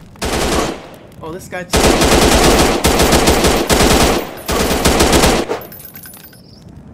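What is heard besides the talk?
gunfire in the video game The Lonesome Shooter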